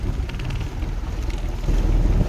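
Steady, rough wind buffeting the microphone over open water, a constant low roar that grows slightly stronger toward the end.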